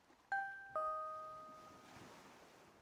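A two-note doorbell chime rings in The Silver Case video game, one bright ding followed a half second later by a lower dong, both tones ringing out and fading slowly against a quiet background.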